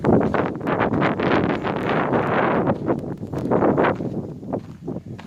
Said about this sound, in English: Hopefully you guys can hear me over the wind.